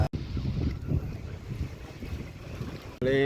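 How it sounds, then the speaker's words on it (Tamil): Wind gusting over the sea aboard a fishing boat, a loud rushing roar with buffeting on the microphone that cuts out briefly near the end. "காற்று கடலில் எப்படி கிளம்புது பாருங்க"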